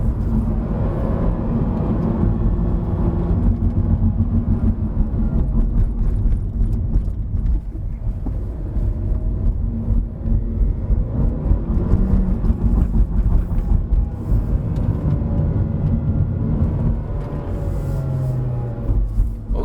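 A 2020 Honda Civic 1.5 TCP climbs a mountain hill road, its engine a steady low drone under constant tire and wind roar, with no speech throughout.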